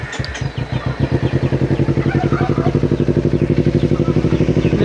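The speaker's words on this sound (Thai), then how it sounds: "นี่ลองสตาร์ทให้เบิ่งเลยเนาะ" A Kawasaki Z250 motorcycle engine starts with a brief cranking clatter and then settles into a loud, close, steady rapid idle with an even pulsing beat.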